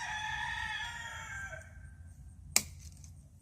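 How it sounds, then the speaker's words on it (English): A rooster crows loudly in a long drawn-out call that fades away, followed by a single sharp crack from somewhere farther off. "The roosters keep trying."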